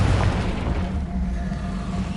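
A Confringo blasting spell explodes in Hogwarts Legacy, a deep booming blast that rolls out and fades over about two seconds, loud and close, with no talk.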